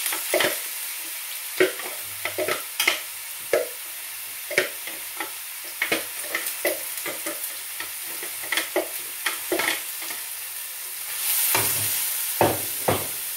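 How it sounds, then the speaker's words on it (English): Onions sizzle in a frying pan with a steady hiss, broken by frequent sharp scraping clicks as they are stirred while being sweated down for saag paneer. "as you can hear there's a bit of a sizzle"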